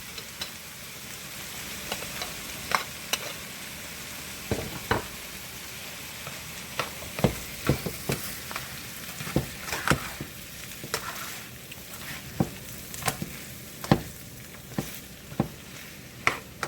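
Jalapenos are stirred and fried in a pan for a baked spaghetti casserole. A steady sizzle runs under irregular scraping and clacking strokes from the stirring utensil, close and fairly loud.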